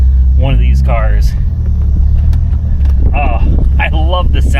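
A Dodge Viper with the top down rumbles loudly while driving, a deep, steady engine drone that sounds close and continuous beneath someone talking.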